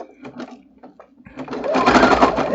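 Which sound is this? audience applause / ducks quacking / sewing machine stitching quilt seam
sewing machine stitching quilt seam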